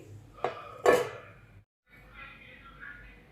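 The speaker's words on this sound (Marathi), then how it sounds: "मी आता हे ताट झाकून घेते" A metal plate clatters onto a pan of fasting khichdi, two quick metallic knocks, the second louder, followed by a brief silence and soft background murmur.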